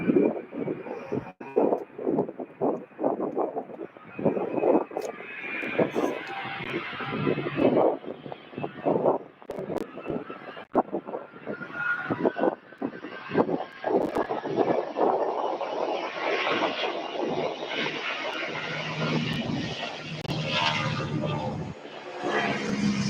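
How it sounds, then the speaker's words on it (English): UPS cargo jet on its takeoff roll at Louisville airport, a broad roar that builds steadily over many seconds, with wind buffeting the microphone and some chatter mixed in. "And he is beginning his takeoff roll."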